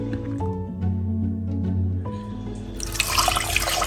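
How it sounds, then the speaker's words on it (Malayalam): Peeled tapioca gets a second wash in a basin of water, with soft handling sounds giving way to louder sloshing and splashing in the last second. "2 വട്ടം കഴുകുന്നതായിരിക്കും കുറച്ചും കൂടെ നല്ലത്."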